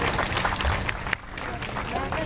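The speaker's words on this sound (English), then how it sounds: "Let's give a round of applause." Crowd applause at an aquarium show after a marine animal performance, a steady wash of clapping mixed with cheering and voices throughout.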